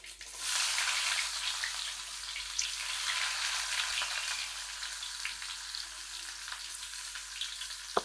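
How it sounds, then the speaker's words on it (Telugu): Onion fries with cumin and mustard seeds in hot oil in a pan, a dense, crackling sizzle that swells in after a moment and holds steady with small pops, close and without speech. "ఇవి బాగా ఫ్రై అవ్వాలి."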